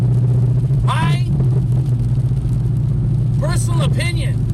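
Chevrolet Camaro ZL1 making over 660 wheel horsepower, its engine droning loud and steady throughout with a deep constant rumble, short rising revs sweeping up on top.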